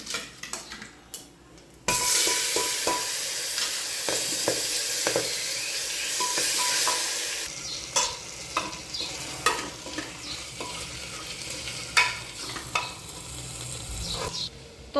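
Vegetables for potato curry hit hot oil with a sudden loud sizzle, followed by a steady hissing fry, then clinks and scrapes of a spoon stirring in a metal pan, close by and without speech.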